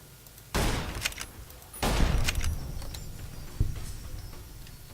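Gunfire from an enemy in the video game Fallout: New Vegas, with two loud shot bursts and a smaller later shot, each followed by a trailing echo against a quiet outdoor background.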